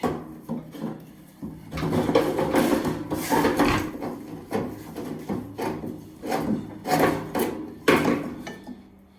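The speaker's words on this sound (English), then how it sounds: "I'm going to have to pull the stove off of the pallet here a little bit" A pellet stove is dragged and shifted off a wooden pallet, giving a run of rough wooden scraping and rubbing bursts with knocks, fairly close and loud, and no talking.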